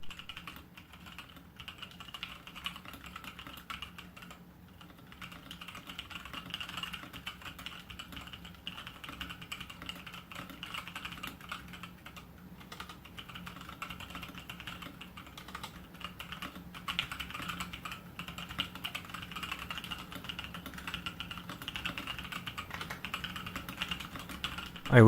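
Steady typing on a KBD66 keyboard built with 65 gram Zealios switches, a continuous run of keystrokes at an even pace, close and fairly quiet, with no voices.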